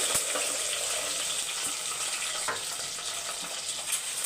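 Okra sautéing in sesame oil makes a soft, continuous sizzle close by, broken by a few faint clicks and stirring touches.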